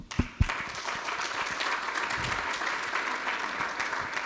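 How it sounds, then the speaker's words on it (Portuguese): A round of applause from an audience at a business outlook presentation. A couple of loud, close claps open it before it swells into a steady, full clatter of many hands that continues evenly. "Salva de palmas, pessoal."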